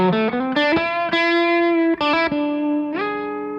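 A Les Paul electric guitar into a Revv D20 amplifier, boosted by a Golden Boy pedal, plays a bright, harmonically rich distorted riff of quick bends, stabs and sustained chords, loud and close with no talking.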